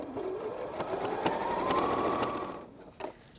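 An embroidery sewing machine stitches steadily through layers of stocking fabric, a close, continuous mechanical whir with a rising pitch that stops near the end, followed by a brief clunk.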